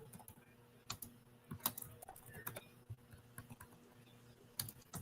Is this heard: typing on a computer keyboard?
yes